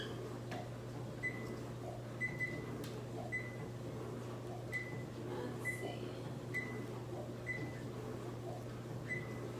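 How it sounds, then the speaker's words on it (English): An electronic oven control panel gives a string of short, evenly spaced beeps as its temperature setting is lowered from 500 to 350 degrees while a pizza bakes. The beeps sit over a steady low appliance hum, with no talking. "Let me lower the oven temperature."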